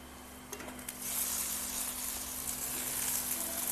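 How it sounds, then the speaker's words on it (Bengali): Ginger paste sizzling in hot oil in a pan for a Bengali mutton kasha, a steady close hiss that jumps louder after a few light clinks of stirring, with no voices. "আদা বাটাটা একটু ভেজে নেব।"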